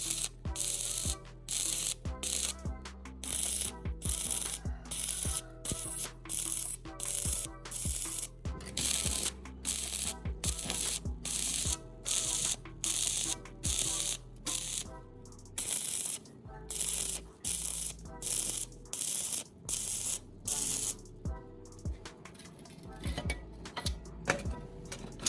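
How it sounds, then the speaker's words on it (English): Wire brush and chipping hammer scraping and knocking slag off a fresh weld bead on a steel bar, a steady run of rapid, close, rhythmic scratching strokes and clicks with brief pauses between bursts. "I use a chipping hammer and wire brush to clean off the slag"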